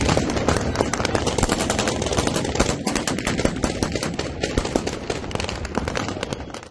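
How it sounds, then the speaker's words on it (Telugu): Dense, continuous gunfire during armed clashes in Syria, with rapid automatic bursts and scattered shots overlapping without pause, loud and sustained throughout. "పలు ప్రాంతాల్లో పెద్ద ఎత్తున కాల్పులు జరుగుతున్నాయి."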